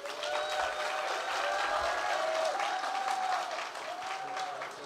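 Loud, sustained applause from a large crowd of Filipino community members in San Francisco, dense and continuous throughout with faint tonal whistles or cheers riding on top.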